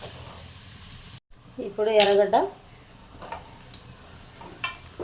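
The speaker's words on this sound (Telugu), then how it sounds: "ఇవన్నీ బ్రౌన్ కలర్ వచ్చిందాక వేయించుకున్నాము." Onions for chicken curry fry in a pan with a soft, steady sizzle, a brief louder burst and a few stirring clatters, while a person speaks briefly.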